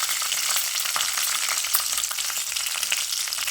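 Curry leaves, a broken dried chili and chana dal crackle and sizzle steadily in hot oil, a dense, close hiss with small popping spatters throughout.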